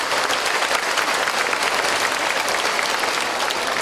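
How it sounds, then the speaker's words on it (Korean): A festival audience at an outdoor star-light event on Seolbongsan applauds, a dense, steady wash of many hands clapping together without a break, fairly loud and close, with no voice over it. "박수 한번 주세요"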